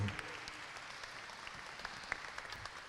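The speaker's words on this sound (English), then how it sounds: "give your parents a big round of applause for making this year work for you" Students at a 7th grade awards ceremony applaud their parents, a steady wash of clapping from a large indoor crowd with a few sharper individual claps standing out, moderately distant and fairly soft.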